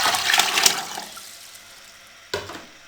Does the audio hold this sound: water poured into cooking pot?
yes